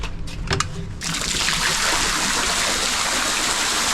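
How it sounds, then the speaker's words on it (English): A private infinity pool's waterfall feature starts up: after a second of quiet handling noise, a steady, full rush of falling and splashing water sets in and continues evenly, close by, with no talking. "your own private infinity pool right here, which has a waterfall feature"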